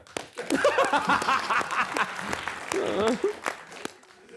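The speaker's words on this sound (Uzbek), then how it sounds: "Onalar uchun bitta qarsak unda." A crowd applauding for mothers, a short burst of clapping mixed with talking and light laughter.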